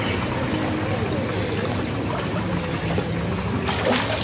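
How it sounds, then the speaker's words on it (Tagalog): Steady water flowing and trickling at a village spot where people fetch their drinking water, a continuous close rushing wash with no break. "yung tubig is paagos kasi siya papunta dito"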